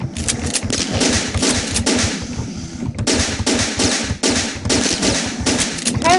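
Rapid gunfire from the Boxhead 2Play video game, dense bursts of repeated shots in quick rhythmic succession with brief pauses between volleys, loud and close, with no talk.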